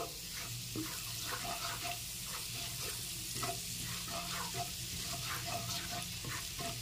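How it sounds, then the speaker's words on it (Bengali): Dry flour being fried and stirred in a pan with fat while making butter garlic chicken. A close, continuous sizzle runs throughout, with repeated scraping strokes of the spoon and no talking. "একটু নেড়েচেড়ে ময়দাটাকে এর মধ্যে ভেজে নিচ্ছি"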